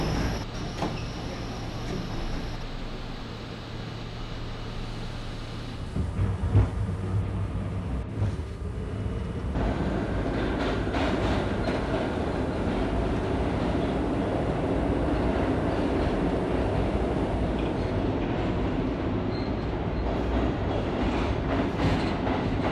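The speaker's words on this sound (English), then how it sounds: "This is a West Point bound F express train." An R32 F express subway train runs with a loud, steady rumble and rolling roar, quieter at first and then swelling to a sustained drone with rhythmic rail clatter.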